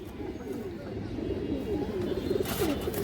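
Farm pigeons give a run of close, throaty coos, one rolling phrase after another against a dull, steady background hum.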